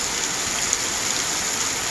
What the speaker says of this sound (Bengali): দেখেন কি সুন্দর করে বৃষ্টি হইতেছে।